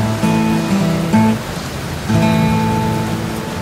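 Steady rain falls with an even hiss. Sustained musical tones ring over it throughout, and there is no talking.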